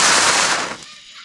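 Small, cheap consumer fireworks crackle in a dense, loud burst of rapid pops at close range, fading quickly after under a second into a softer hiss.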